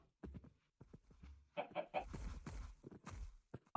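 Chicken in Minecraft with a realism texture pack, clucking in short bursts of close, clear cackles with quiet gaps between them.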